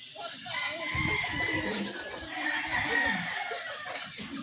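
A white-legged sweater gamefowl rooster, one of three F1 siblings, is heard in an outdoor yard with faint clucking and crowing sounds mixed with hiss and background noise, while a person talks nearby.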